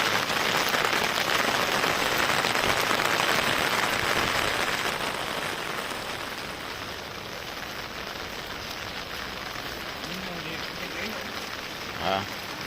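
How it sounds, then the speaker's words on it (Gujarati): Heavy monsoon rain falling in the Maliya Hatina area of Gujarat, a broad steady hiss that is loud at first and eases slightly, with a brief knock near the end. "આમ સમગ્ર માળી હાટીના તાલુકામાં સારો એવો વરસાદ થઈ ગયો છે."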